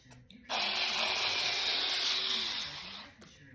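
Cordless electric scissors cut through thick cardboard, a loud, steady buzzing motor whine mixed with rough cutting noise that starts abruptly, holds for about three seconds, then fades and stops.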